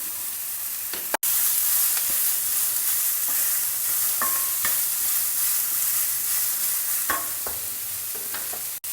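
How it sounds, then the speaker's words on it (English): Chopped beetroot frying in a pan with green chillies and hing, a steady sizzle with occasional stirring scrapes and clinks of a spoon against the pan throughout. "Next, add in the washed, peeled and chopped beetroot to it."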